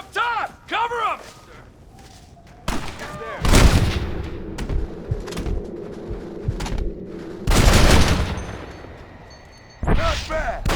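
Heavy gunfire from a gate battle in the Western video game Red Dead Redemption, with loud bursts of shots and booming blasts in waves, separated by brief lulls and shouted voices.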